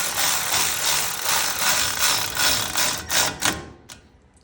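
A hand ratchet tool clicks as a wheel hub bolt is run down snug on a 2003-2023 Toyota 4Runner 2WD, with rapid mechanical ratcheting bursts, close and fairly loud, tapering into a few separate clicks near the end.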